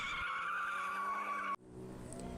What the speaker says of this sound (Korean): 현대자동차 고성능 미드십 스포츠카 RM6 의 멋진 주행 시연 드리프트는 관객 눈길을 사로잡으면서